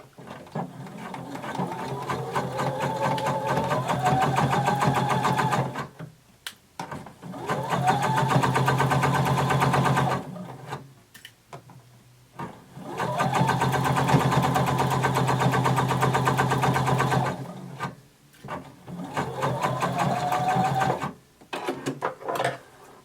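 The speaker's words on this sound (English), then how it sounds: "we're going to sew 5/8 of an inch seam allowance all the way down" A sewing machine runs a 5/8 inch seam down a bodice sleeve in four long, steady, loud stretches of whirring stitches, each ending before a short pause.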